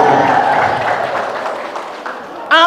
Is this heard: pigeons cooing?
no